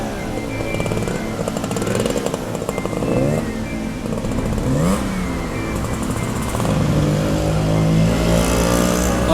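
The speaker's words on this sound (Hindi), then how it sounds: "कुछ देर बाद गुल्ली बाइक को आगे ले जाने लगा।" A motorbike revs and rides off along a forest road as a story sound effect, a continuous buzzing engine with rising and falling revs, loud and close throughout.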